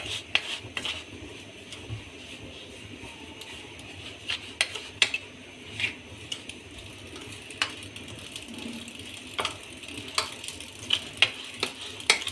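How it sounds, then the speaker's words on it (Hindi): A spoon scrapes and clinks against a pan while coconut is stirred into a semolina barfi mixture, irregular metallic taps and soft scraping over a faint steady background hiss. "अच्छे से मिक्स कर लें।"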